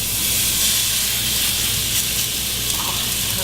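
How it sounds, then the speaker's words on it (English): Pork tenderloin sears in a pan coated with olive oil, giving a loud, close, continuous sizzling hiss with no pause. "And then put in my tenderloin."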